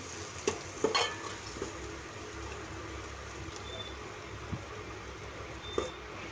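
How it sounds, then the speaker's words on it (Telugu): Turmeric and ginger are stirred into a curry in a pan, a steady low sizzle with a few faint spoon scrapes and taps against the pan, quiet and close. "కొంచెం పసుపు, కొంచెం అల్లం వేసుకొని కలుపుకోవాలి"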